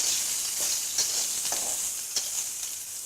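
Green chilies, peanuts and curry leaves fry in a pan for sabudana khichdi, giving a steady bright sizzle with a few soft stirring clicks, close and fairly quiet, no voices.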